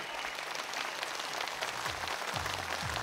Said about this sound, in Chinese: 掌声再次鼓励